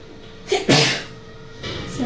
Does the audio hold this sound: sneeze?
yes